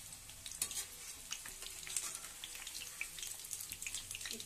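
Cabbage pakoras fry in hot oil as they are turned, giving a quiet, continuous crackle with small sharp pops scattered throughout, heard close and alone.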